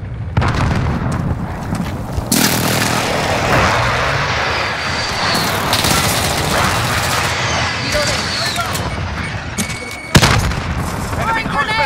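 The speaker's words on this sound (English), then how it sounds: "Be advised, friendly precision airstrike inbound." In Call of Duty: Modern Warfare an airstrike roars in, with loud jet engine noise, rumbling blasts and bursts of gunfire under a voice talking, then a sharp explosion near the end.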